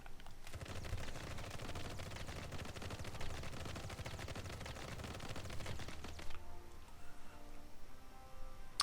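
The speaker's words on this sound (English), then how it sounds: "Glock 19 basic. Here it is if you haven't seen it." Rapid, sustained Glock 19 gunfire in the Marvel Heroes video game, a dense stream of sharp shots lasting about six seconds before stopping abruptly and leaving faint game ambience.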